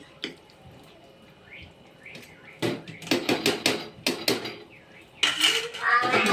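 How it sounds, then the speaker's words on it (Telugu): A metal lid clatters onto a pot with a series of sharp, close clanks and scrapes, in bursts with brief pauses. "మూత పెట్టేస్తున్నాండి."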